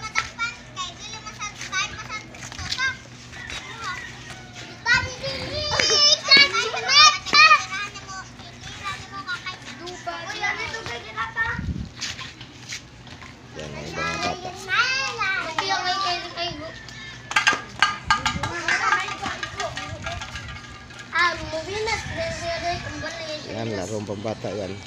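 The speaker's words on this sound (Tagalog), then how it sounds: "Ya, naglaro ng mga bata." Children play outdoors with lively shouts, squeals and chatter that rise and fall over the whole stretch, some voices close and others farther off, under a faint steady background hum.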